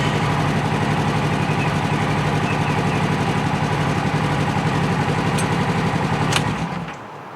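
A Polaris RZR XP 1000 engine idles with a steady, close, throbbing rumble, then cuts off near the end after a couple of sharp clicks, leaving quieter background.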